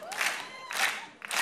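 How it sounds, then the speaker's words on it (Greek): An audience at a Greek X-Factor audition claps and cheers in surging waves, bright crowd noise rising and falling three times in quick succession. "Χτυπάτε παλαμάκια"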